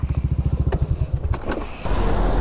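A Yamaha NMAX V2 motor scooter engine idles with a fast, regular putter of low pulses, then revs up into a steadier, louder drone close by.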